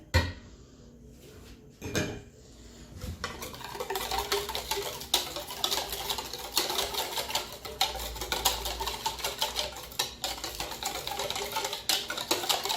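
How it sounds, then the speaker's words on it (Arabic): An electric whisk mixes a brioche mixture with a steady, dense, close whirring buzz that runs almost without a break after a brief, uneven start. "غادي ندير الفوي ديالي باش نحرك مزيان"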